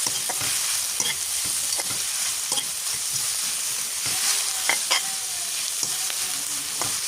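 Crushed ginger and garlic fry in a pan for spicy fried chicken, giving a steady, loud sizzle with occasional utensil scrapes and taps as it is stirred, and no talking.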